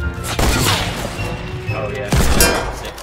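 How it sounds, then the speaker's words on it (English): Hand cannon gunshots in a Fortnite match: two heavy booming shots with long rumbling tails, a second or so apart, loud and close, with faint voice-like sounds in the mix. "I killed him with a hand cannon"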